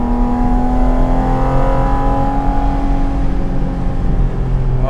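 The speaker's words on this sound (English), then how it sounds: "Oh, what a sweet engine." Porsche 718 Cayman GT4 RS sports car engine accelerating in manual mode, a loud rising tone climbing steadily as revs build, heard from inside the car with no talk.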